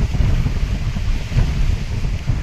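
Strong wind on Parvathamalai mountain, at about 4560 feet, buffets the microphone with a loud, continuous low rumble and gusty roar, with no voices heard.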